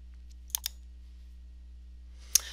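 A computer mouse click inserting an endnote in a word processor, a few sharp, faint clicks in a quiet room with a steady low hum.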